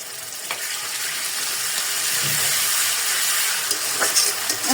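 Spice paste frying in a pan over a wood-fired stove, a steady close sizzle with a few soft stirring scrapes, running alone with no talk.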